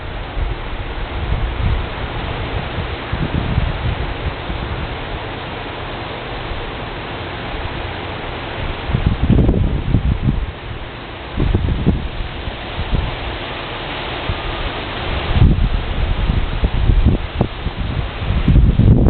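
Strong wind blows sand through the air in Palm Desert, a constant gritty hiss punctuated by heavy, rumbling microphone buffets as gusts surge repeatedly, loud and close throughout.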